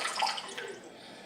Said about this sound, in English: we want to make sure we put some water on it